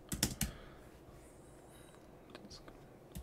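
Bursts of quick clicking keystrokes on a computer keyboard come close and clear at the start, then lighter scattered taps follow after a quiet stretch, all at a low level.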